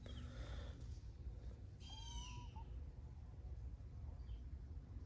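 A small kitten gives a thin, rising meow-like cry once, then a faint second squeak, over a steady background hum.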